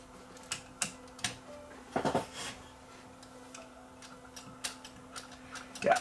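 A small switch inside a Pioneer CT-F8080 cassette deck makes sharp, faint clicks at irregular intervals over a low steady hum, with a couple of louder rattling clicks.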